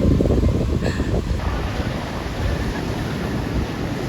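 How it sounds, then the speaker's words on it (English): Sea surf washing onto a beach at Colva in Goa, a steady broadband roar of breaking waves with wind noise, fairly loud and continuous throughout. "we just continued following the sound of the sea and we've reached"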